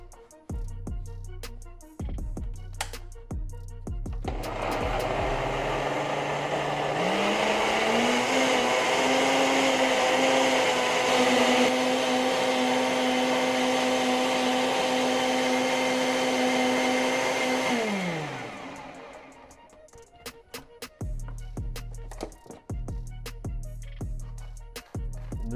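A blender starts up and grinds cilantro jerk cream steadily on low for around fourteen seconds, its motor pitch rising slightly before winding down, with clatter before and after.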